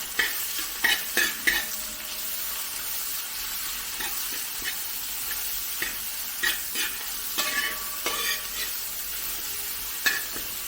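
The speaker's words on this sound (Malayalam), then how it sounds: "മീഡിയം ടു ലോ ഫ്ലെയിമിൽ കിടന്ന് സവാള എണ്ണ വഴന്ന് വരണം." Sliced onions sautéing in oil over a medium-low flame for chicken curry, a steady soft sizzle with scattered scrapes and clinks of a spoon stirring the pan.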